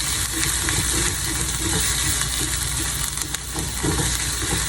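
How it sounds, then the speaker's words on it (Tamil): Onion and green chilli sautéing in a very hot pan, giving a loud, dense, continuous sizzle close up with faint stirring and no talking. "நல்லா வதங்கட்டும்."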